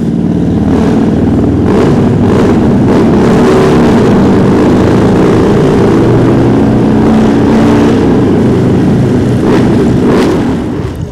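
A bagger-style motorcycle engine idles as it warms up, a loud, steady, close rumble that keeps going without a break and with no voices.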